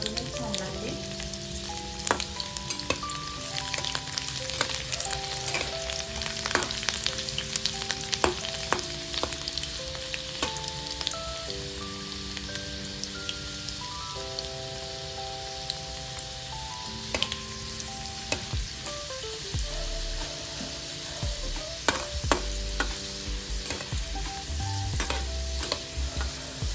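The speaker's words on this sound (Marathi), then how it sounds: "त्यामध्ये मी बारीक चिरून घेतलेला लसूण लालसर होईपर्यंत भाजून घेणार आहे" Finely chopped garlic fries in hot oil until it turns reddish, a steady sizzle that runs for the whole stretch, with faint background music laid under it, while dill greens (shepu bhaji) are being prepared.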